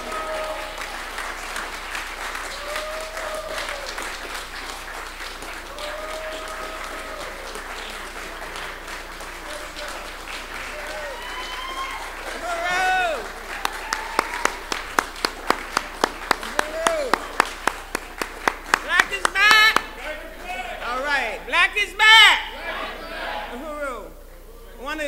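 A conference audience applauds a panel, clapping building from a murmur of voices into a sharper burst of individual claps in the second half, with cheers and talk mixed in.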